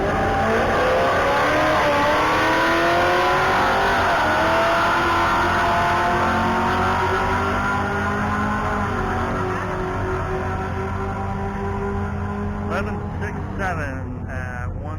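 A 1979 Ford F100 truck prepared for drag racing roars down the strip, its engine climbing through the gears in long, loud rising sweeps. A voice speaks over the steady, heavy engine and wind noise.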